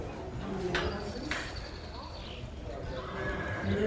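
Horses at a colt starting competition whinny sharply and their hooves clip-clop nearby, with a faint bird cooing in the background.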